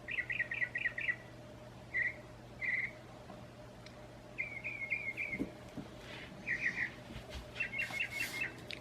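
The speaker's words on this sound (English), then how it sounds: "That mockingbird is so funny. It makes so much noise, and it just sings and sings and sings for hours on end." A mockingbird sings near a house window, giving quick repeated chirping phrases in short bursts separated by pauses, fairly faint over a quiet steady background hum.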